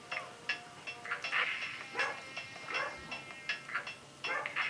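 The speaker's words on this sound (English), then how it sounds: "Dog's barking, sorry about that." A dog indoors gives a run of quick, yipping barks and whimpers, faint and somewhat distant, repeating in short bursts.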